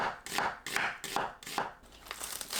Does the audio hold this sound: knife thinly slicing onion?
yes